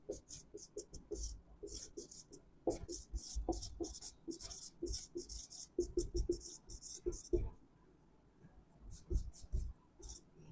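A pen writes on paper during a maths lesson, with quick scratchy strokes in bursts separated by short pauses, close and fairly quiet, and a low voice faintly underneath.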